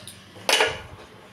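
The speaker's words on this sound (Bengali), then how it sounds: "কড়াই বসিয়ে দিলাম।" Metal kadai set down on a gas stove in a home kitchen, a single sharp clank in the middle of an otherwise quiet moment, close and fairly loud, fading quickly.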